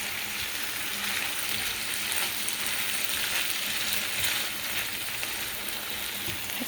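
Spinach with garlic frying in a pan, a steady, close, even sizzle and hiss that holds without letup and with no voices over it.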